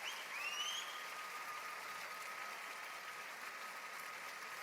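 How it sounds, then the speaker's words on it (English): Sustained applause and ovation from an opera audience at the Met as a soprano bows, a steady dense clatter of clapping held throughout, with a thin whistle-like tone rising briefly near the start. "this crowd that just is showering her with love and ovation"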